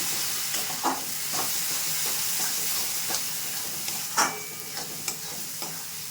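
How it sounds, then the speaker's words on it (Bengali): Spices and Kashmiri red chili powder stirred into a sizzling pan for chickpea bhuna, a steady frying hiss with scattered scraping strokes of the spoon, fairly loud and close, no voices. "কাশ্মীরি রেড চিলি পাউডার দিয়ে এটাকে ভালো করে মিশিয়ে নিচ্ছি"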